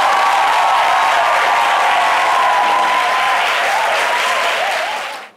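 A Valentine's Day television studio audience claps hard for a couple, producing a sustained, loud, even roar of applause with light crowd noise that tapers off sharply in the final half second.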